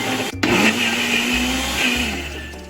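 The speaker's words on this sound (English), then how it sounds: "Take the mix and blend it up until smooth." A loud blender whirs steadily, blending a fruit mix for homemade popsicles, its motor pitch shifting slightly as the contents churn, with no one speaking.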